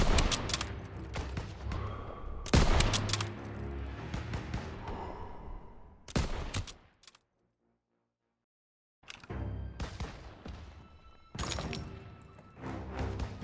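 Gunfire in a Call of Duty: WWII street battle near a church tower. Loud, crackling bursts come in several rounds, broken by a brief dead-silent pause before the shooting resumes.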